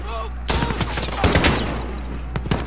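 Rapid bursts of gunfire in Call of Duty Modern Warfare, loud and close, with sharp overlapping shots and automatic fire over steady game background noise.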